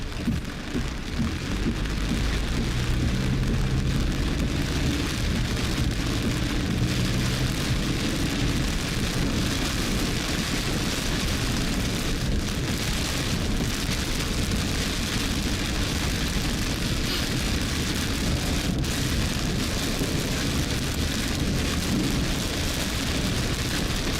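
Heavy rain pounds down steadily during a fast-moving morning storm in Oklahoma, a dense, loud, unbroken roar with low rumbling underneath, and nobody speaks.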